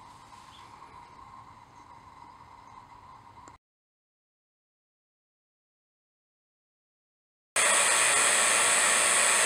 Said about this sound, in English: start the vacuum pump and see how long it takes to run down to uh, to 500 microns